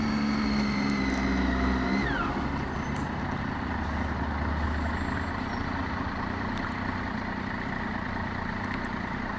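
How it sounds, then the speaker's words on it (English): Heavy morning rush-hour traffic in central Sydney, buses and cars rumbling and idling continuously among tall buildings, a steady broad engine drone with a passing tonal whine early on, recorded from a motorbike. "Why is there so much traffic?"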